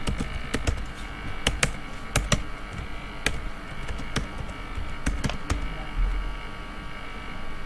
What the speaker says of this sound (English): click and backspace from your keyboard